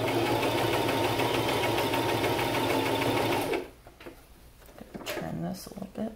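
Sewing machine stitching a seam in a fabric mask, a steady rapid whirring buzz running for about three and a half seconds, then stopping, followed by quiet handling noise and a voice.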